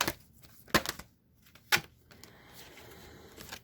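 Sharp riffling bursts of a tarot card deck being shuffled, a few quick flurries separated by pauses, close and fairly quiet.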